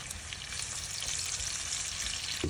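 Onion rings stewing in a pan with apples and sugar, giving a soft, even hiss of frying that carries on steadily at close range, with a faint low rumble underneath and one small knock at the end.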